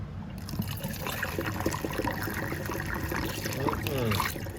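Water pours into a gallon jug in a steady, close trickle that runs without a break, with a little gurgling as it fills.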